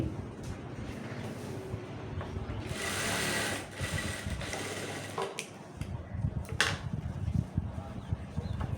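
Sewing machine stitching the side seams of dress pants, whirring in uneven bursts with a longer run in the middle, mixed with handling clicks and fabric rustle at moderate, fairly quiet level.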